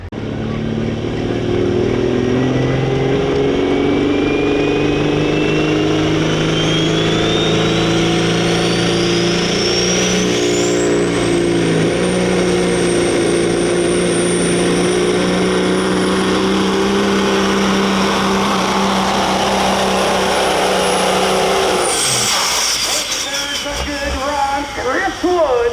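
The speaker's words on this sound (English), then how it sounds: "A 1977 Peterbilt with a Caterpillar 3406 engine." A 1977 Peterbilt semi truck with a Caterpillar 3406 engine pulling a sled on a pulling track, its diesel roaring loud and steady for the whole run, the pitch climbing as it pulls, then the engine dropping off near the end.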